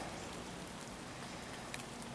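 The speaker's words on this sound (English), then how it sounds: "as you can tell, it's still raining" Steady rain falls outdoors, a constant soft hiss of drops patters on surfaces with no voices, fairly faint and unchanging throughout.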